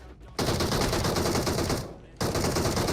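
Video game gunfire in two loud, close automatic bursts: a dense, sustained rattle of shots, a brief pause, then another burst.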